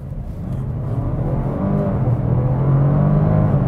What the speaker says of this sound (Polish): Niesamowite jest to, jak dobrze jest wyciszony ten silnik.